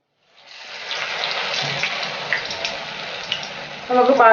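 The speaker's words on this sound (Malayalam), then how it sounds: "നമുക്ക് ബാക്കിയുള്ള വടയും കൂടി ഇനി ഇങ്ങനെ ചുട്ടെടുക്കാം." Uzhunnu vada, fritters of urad dal, frying in hot oil: a close, steady bubbling hiss fades in and holds, then bursts louder near the end.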